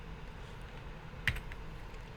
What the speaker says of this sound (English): we can hit M on our keyboard